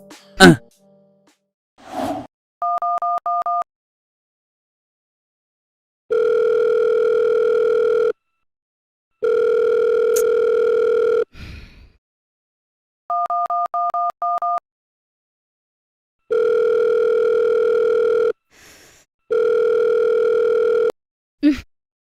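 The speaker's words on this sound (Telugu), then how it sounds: "వాడు ఫోన్ లిఫ్ట్ చేయట్లేదు" A phone call goes unanswered: evenly spaced ringback tones repeat in long steady bursts with silent gaps, broken by a few brief breaths and sighs.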